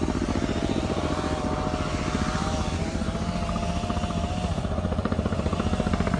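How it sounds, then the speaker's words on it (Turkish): A firefighting helicopter's rotor thrum fills the air continuously while it makes a water drop, loud and steady, with a throbbing beat that holds throughout. "helikopter bir daha geliyor."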